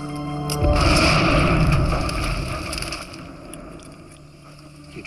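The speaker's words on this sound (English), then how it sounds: "Like an explosion?" A deep, loud boom in an action thriller movie scene bursts in under a second and rumbles on, then slowly fades to a low murmur over the next few seconds.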